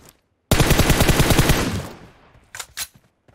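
A long burst of rapid automatic gunfire in the mobile game PUBG Mobile, loud and close, aimed at a car, fading out before two short sharp shots.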